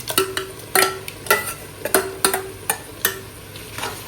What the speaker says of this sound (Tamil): ப்ரானும் சேர்த்து நல்ல ஒரு பச்சை வாசனை போக வதங்கி வரணும்